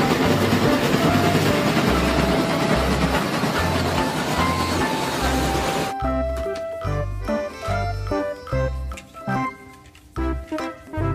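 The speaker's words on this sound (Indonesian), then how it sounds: "Train. Kereta api." Train with clattering rail noise and a horn-like tone for about six seconds, then a rhythmic musical backing with strong beats takes over for the rest.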